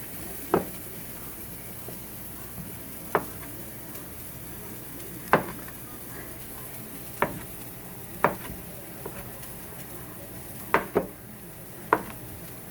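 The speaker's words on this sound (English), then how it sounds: "then just cut up your sausage into small bite-sized pieces" Knife chopping sausage into small bite-sized pieces on a board while preparing a keto breakfast bowl, heard as about eight sharp, separate knocks at irregular intervals over a low kitchen background hum.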